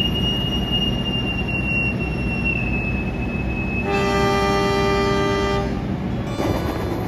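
A Singasari passenger train pulls away on a morning run, wheels squealing steadily against the rails over a continuous low rumble, with a horn-like tonal blast holding for a couple of seconds partway through.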